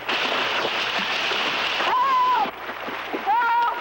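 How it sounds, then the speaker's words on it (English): Heavy splashing in open water, loud and continuous for a few seconds, with a brief high whistling tone sliding over the churn twice. "Listen to those splashes."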